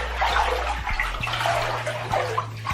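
Hands swishing and mixing bleach into water in a bathtub, a steady close sloshing and trickling with soft splashes, no voices.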